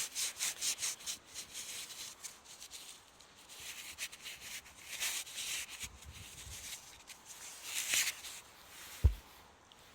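Wet soil is rubbed off a freshly dug metal detecting find, a coin or button, giving soft, uneven scraping and rubbing strokes close by, with a brief knock near the end and no talking.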